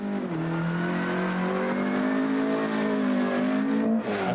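A Group A Peugeot rally car races flat out on a 1987 Cork 20 stage, its engine droning loud and steady before it shifts pitch and lifts near the end.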